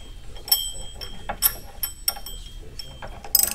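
A hand ratchet snugs down a bolt during an aftermarket part install in a garage, producing close, sharp clicking bursts in an irregular rhythm with short gaps, ending in a quicker flurry of clicks.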